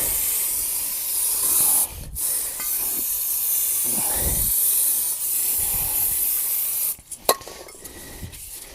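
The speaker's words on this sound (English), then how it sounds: "got a brake cleaner this because this is coated with an oil" Brake cleaner sprayed onto oily rear brake parts of a VW Crafter / Mercedes Sprinter camper van: a steady, close pressurised hiss running for several seconds, cutting out briefly, then ending with a few short bursts and clicks.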